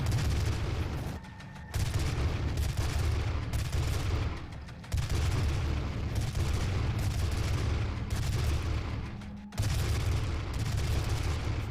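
Sustained gunfire in DOOM (2016), dense loud bursts of rapid shots with brief gaps between volleys, heavy low-end thump under crackling highs.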